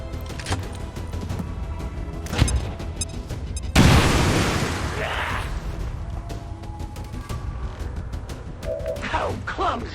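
An explosion goes off in the XCOM 2 strategy video game, a sudden loud burst that decays into a rumbling tail, with a smaller thud just before it and game sound effects around it.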